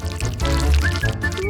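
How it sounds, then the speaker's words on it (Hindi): Sauce is poured over a plate of fries in a home kitchen, a short continuous squirting, gurgling pour that is fairly close and steady, with no talk over it. "अब इसे एक प्लेट में रखेंगे और इसके ऊपर सॉस डालेंगे।"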